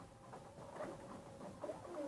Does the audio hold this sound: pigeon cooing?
yes